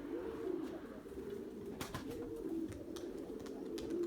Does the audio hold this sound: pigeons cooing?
yes